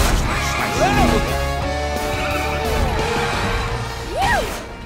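Trash smasher machines crash and bang in a children's cartoon game, with a sharp smashing impact and a cartoon voice reacting, set against a busy musical background.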